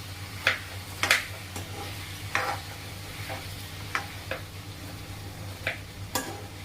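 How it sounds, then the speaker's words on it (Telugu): Food being stirred and mixed in a pan while cooking, with chopped onions going in; a utensil scrapes and taps at irregular intervals over a steady low hum and faint sizzle, no talking. "సో ఇప్పుడు మళ్ళీ మనము దీన్ని మిక్సింగ్ అనేది చేసుకోవాలన్నమాట."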